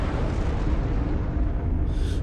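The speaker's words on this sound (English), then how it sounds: "Explosion." A large explosion in the Planetary Annihilation strategy video game, a loud sustained rumbling blast filling the whole stretch without a sharp start.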